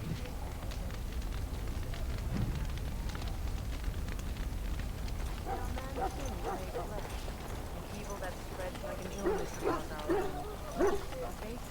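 Hounds bark and yelp in a kennel in the Dragon Age Origins video game, several short barks bunched near the end over a steady noisy ambience and a voice speaking.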